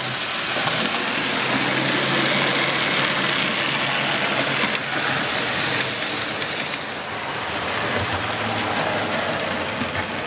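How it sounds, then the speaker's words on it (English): A model coal train locomotive pulls hard up a steep incline of about 1 in 30 on a double-track model railway layout, giving a steady, continuous motor hum and rolling rumble with no talk. "And the coal train just climbing up the incline there."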